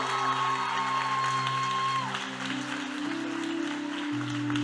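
A congregation applauds and cheers for seminarian Paulo Vitor, a steady wash of clapping with scattered whoops heard over sustained keyboard music.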